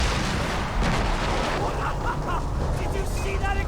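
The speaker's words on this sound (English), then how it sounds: "Did you see that explosion?" A booming explosion from the video game Far Cry 3, a broad rumbling burst amid continuous gunfire and chaotic action sounds, with voices talking over the din.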